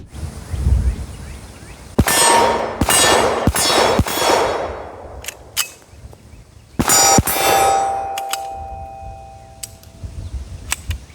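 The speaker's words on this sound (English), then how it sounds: "I'm gonna power through all these hollow points." A Hi-Point .40 handgun firing hollow point rounds outdoors, sharp loud shots in an uneven series with ringing metallic clangs and pauses between, no talking.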